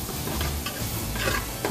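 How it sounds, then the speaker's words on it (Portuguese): Chopped onion sautéing in a pan makes a steady soft sizzle with stirring scrapes, close and continuous over 1.7 seconds. "A gente vai refogar então a cebola."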